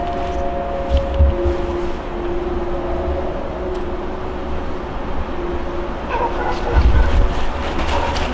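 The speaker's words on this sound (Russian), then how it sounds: "Слушай, собаки." Dogs barking at an abandoned site, the barks fairly loud against steady background noise, with people talking nearby.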